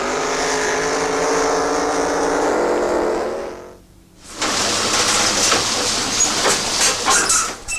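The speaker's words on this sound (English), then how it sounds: "Line two boats up, give them the green light, then for a quarter of a mile" Drag boats racing a quarter mile at full speed, engines roaring at high power, loud and close. One engine howl fades briefly, then a second harsh, rattling roar surges back in.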